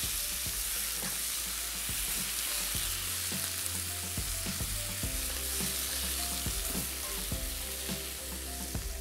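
Tomatoes, parsley and spinach stirred together in a hot pan for an Italian dish, a steady close sizzle with repeated scraping clicks of the spoon throughout, no voices.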